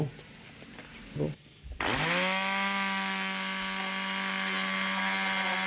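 Kitchen blender grinding masala spices with black tea leaves, starting with a few short clatters before the motor spins up into a loud, sustained whir that rises in pitch and then holds steady.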